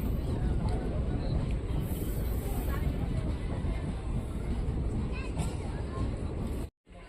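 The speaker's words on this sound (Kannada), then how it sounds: "ಕುಪ್ಪಂನಿಂದ ಹೊರಟಿದೆ ನಮ್ಮ ಟ್ರೈನು." Sheshadri Express train pulling out of Kuppam railway station, a continuous low rumble and rattle heard from inside the carriage, fairly loud and steady, with a voice talking over it before a brief drop near the end.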